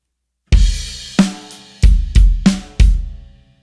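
A kick-and-snare drum pattern from a beginner drum kit groove, played alone: five sharp, close hits with short decays, alternating deep kick thumps and brighter snare cracks.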